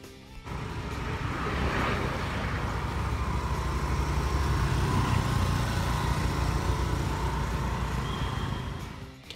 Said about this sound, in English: The engine is smooth and crispy. It sounds really good when you rev it hard.